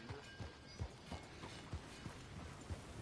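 Horse hooves clip-clop in Red Dead Redemption 2, a series of soft, evenly spaced thuds at a walking pace over quiet ambience.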